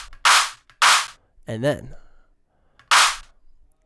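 A synthesized clap made from a noise oscillator shaped by an LFO in electronic dance music production: three sharp, dry, snappy bursts spaced apart, loud and close, with a brief spoken voice between them.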